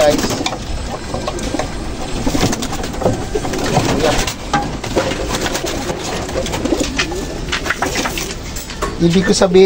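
Pigeons coo nearby in a loft, soft rolling calls repeating through the clip over a low background hum and occasional mechanical noise.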